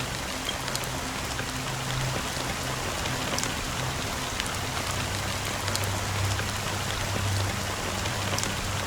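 Steady rain falls in a dense, even hiss that does not let up, with a low hum underneath and no voices.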